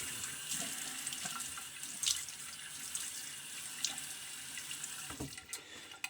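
Water runs from a bathroom tap into a sink while a face is wetted before shaving, a soft continuous stream with faint splashes and small drips, fairly quiet and without talk.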